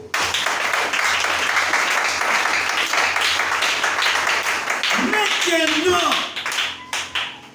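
Congregation in church applauding loudly, sustained dense clapping throughout, with a voice briefly calling out near the end as the applause fades.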